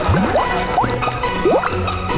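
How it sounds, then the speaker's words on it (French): Bubbly, drippy liquid sounds in a lively children's sitcom scene, with a few quick rising blips and gurgles popping out close and clear over a steady background. "Des bulles!"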